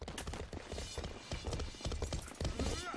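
Horse hooves clip-clop during a castle defense battle in the medieval game Life is Feudal, a quick rhythmic patter set inside a dense, busy mix of combat noise and voices.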